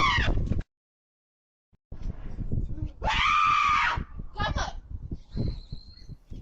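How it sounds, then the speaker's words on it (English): A woman lets out a shrill, drawn-out horror-movie scream in fright as a bear cub climbs onto a home deck, preceded by a sharp outburst and followed by excited overlapping voices and short shrieks. "The moment leaving one woman to let out a horror movie screech as the bear climbed onto the deck."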